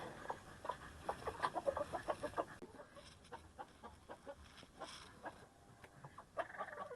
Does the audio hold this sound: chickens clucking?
yes